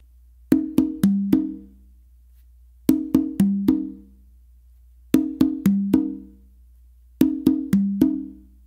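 Congas played in a guaguanco tumbao with many open tones, heard alone and close as four repeated phrases of quick ringing strokes, each group of three or four hits followed by a short pause.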